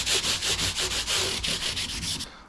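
Fret ends on a cheap Squier Jagmaster guitar are smoothed with strokes held at a 45-degree angle, a quick run of about a dozen rhythmic rasping rubs, close and even, fading out at the end.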